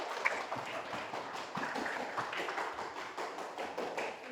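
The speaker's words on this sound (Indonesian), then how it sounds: "Tepuk tangan buat kalian." A small group clapping their hands in a classroom, a dense patter of quick claps at moderate loudness running steadily for several seconds, with no speech over it.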